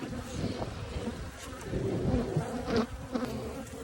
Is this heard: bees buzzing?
yes